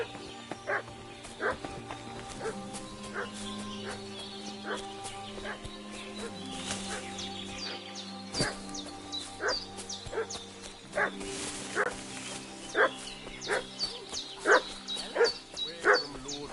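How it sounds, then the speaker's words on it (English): Dog in the medieval video game Kingdom Come Deliverance II barking repeatedly in sharp, evenly spaced bursts at mid distance over quiet ambience, with occasional whimpering yips. "What's that dog making such a fuss about?"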